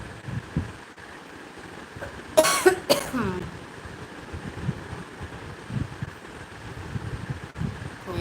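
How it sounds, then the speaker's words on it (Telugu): A short burst of harsh coughing from a person with a cold breaks through quiet background noise, two close coughs, fairly near. "దగ్గు వస్తూనే ఉంది"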